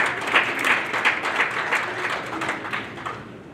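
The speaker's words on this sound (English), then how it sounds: "I think this can be accepted with a round of applause" Conference audience at a South Sudanese Canadian Association gathering in Calgary giving a round of applause, a dense, steady burst of clapping from a crowd lasting a few seconds.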